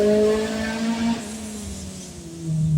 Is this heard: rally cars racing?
yes